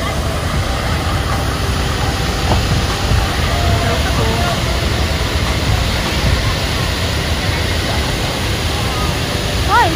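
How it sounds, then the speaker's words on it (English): A waterfall along the Cradle of Humankind hiking trail near Johannesburg roars as a steady, close, broadband rush of splashing water that fills the whole stretch without a break. "you can feel the water splashing from here"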